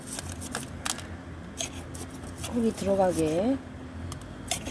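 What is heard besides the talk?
scissors snipping while repotting a succulent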